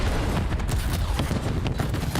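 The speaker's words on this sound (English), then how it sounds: "More explosions." Explosions and gunfire from a Call of Duty League match, a dense continuous rumble of booms and bursts that stays loud and unbroken, heavy in the low end with sharper cracks scattered on top.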